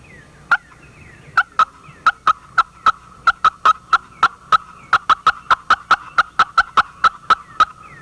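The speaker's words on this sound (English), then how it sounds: "I'm going to show you another call that I use quite often, and that's called cutting." A friction slate turkey call is played in rapid, excited cutting, a series of about twenty-five sharp, loud clucks in an irregular, quickening rhythm, close and alone.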